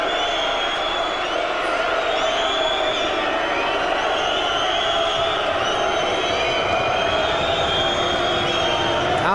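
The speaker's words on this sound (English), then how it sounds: "The crowd don't like it at all." A boxing arena crowd roars and boos in a sustained, dense wall of noise after a disqualification in a heavyweight bout, loud and continuous with no pause.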